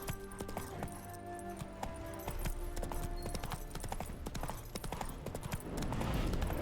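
Horse hooves clip-clopping at a steady walking rhythm, close by, with faint clinking tack and a low ambient game soundscape in The Witcher 3: Hearts of Stone.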